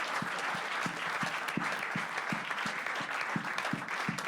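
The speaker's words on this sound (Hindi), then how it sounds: "एक बार जोरदार तालियां यार आपके लिए" Steady audience applause at a televised talent show, a dense wash of many hands clapping at close range, with faint rhythmic thumps running beneath it throughout.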